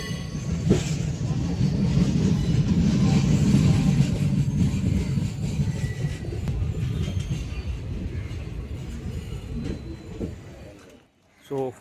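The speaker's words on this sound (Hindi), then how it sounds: "हमारी ट्रेन पहुंच चुकी है मैंगलुरु सेंट्रल" Mangaluru Central to Chennai Central Superfast Express pulling into Mangaluru Central station: a loud, steady rumble of rolling wagons lasting most of the moment, easing off and briefly dropping away near the end before a last short burst.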